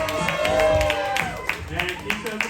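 Audience clapping and cheering at a charity drag show, loud crowd applause with distinct sharp claps, accompanied by a voice and crowd noise.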